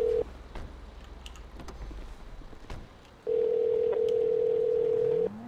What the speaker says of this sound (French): J'appelle Riles.